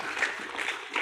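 Audience at a debate competition clapping steadily, a dense patter of many hands heard for about a second, moderately close and without talk over it.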